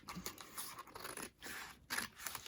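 Scissors snipping paper for a journal template, a faint series of short rasping cuts in quick, uneven rhythm, close and quiet with no talk.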